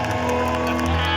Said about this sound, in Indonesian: Tepuk tangan dulu buat keempat panelis kita